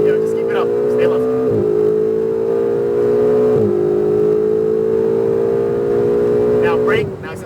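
A Ferrari 488 GTB accelerates on a race track at Speedvegas, its close, loud engine droning steadily with brief dips between climbs in pitch.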